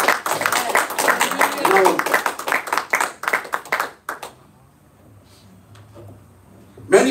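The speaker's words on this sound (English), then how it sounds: "Let's have a clap offering to the Lord." A church congregation claps together in offering to the Lord, a dense burst of clapping for about four seconds that fades out, followed by a quieter stretch where a voice speaks.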